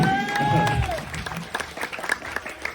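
An audience at a Maulid Nabi religious gathering breaks into applause, clapping building and crackling alongside crowd murmur, following a brief tonal voice or sound at the start.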